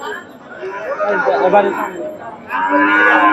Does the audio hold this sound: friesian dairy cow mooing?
yes